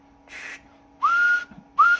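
A person whistles into the microphone of a Cobra 29 CB radio, giving two short rising tones after a burst of static, heard through the radio with a steady background hum.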